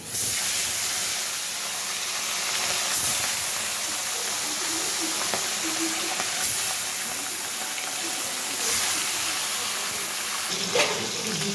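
Fish frying in hot oil, a dense steady sizzle and hiss close up, continuous throughout with small crackles and pops scattered across it.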